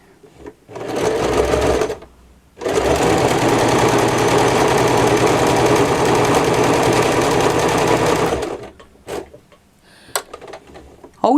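Domestic sewing machine stitching patchwork pieces together, running in two long loud continuous bursts with a short pause between, then stopping into faint handling clicks.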